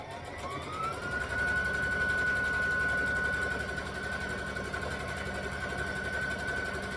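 A sewing machine stitches fabric for reusable unpaper towels, a steady loud motor whine that rises in pitch at the start and then holds an even, continuous hum throughout, with no voices.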